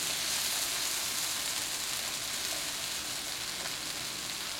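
A constant sizzle rises from onions caramelizing in a pan for onion soup, a soft, uniform hiss heard up close, with no one speaking.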